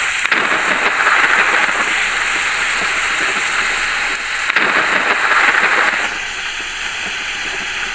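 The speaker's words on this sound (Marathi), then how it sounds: "पाऊस चालू आहे खूप" Heavy rain in the bus-driving video game Bus Simulator India pours as a dense, steady hiss throughout, loud and close, with a brief dip partway and the rain easing slightly near the end.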